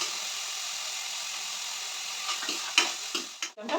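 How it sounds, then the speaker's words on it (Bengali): Chopped capsicum and onion frying in butter in a wok give a steady close sizzle, broken by a few scraping, clattering stirs near the end, with no talking. "কুচনো পেঁয়াজের সাথে দিয়ে দেবো একদম এই যে কুচনো ক্যাপসিকাম।"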